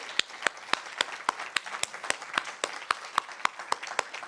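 An audience claps for a performer and his trio after a faculty performance, with crisp, evenly spaced claps in a steady rhythm, close and distinct over a light wash of further clapping.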